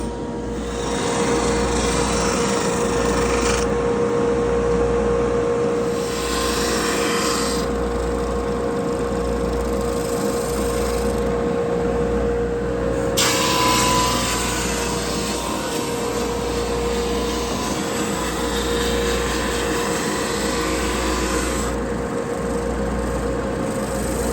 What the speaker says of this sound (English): here's our fretboard. Let's get this thing sanded down